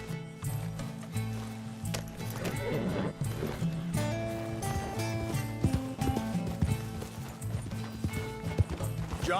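Steady clip-clop of horse hooves trotting along in the video game Red Dead Redemption 2, mixed with dense tonal background sounds and occasional mechanical clicks; no one speaks.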